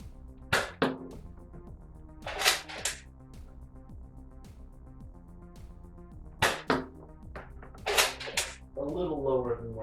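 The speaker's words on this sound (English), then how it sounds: "I'm going to try and use the sights that it comes with to hit the can on the right." A Nerf Tri-Strike blaster fires darts at a can, giving about four sharp, close snaps spaced a few seconds apart over steady background music.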